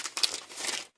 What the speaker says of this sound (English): These are clear plastic bags.